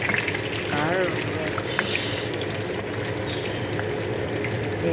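Potatoes and carrots fry in a pan with a steady, dense sizzle that holds at a constant level throughout, and a faint voice is heard briefly.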